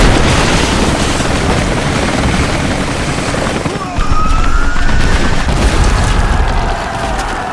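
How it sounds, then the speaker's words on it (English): Approaching helicopters in the video game Rise of the Tomb Raider, a loud steady rotor roar that fills the whole clip and swells briefly near the middle, mixed with other action sounds. "Those choppers should be in range soon."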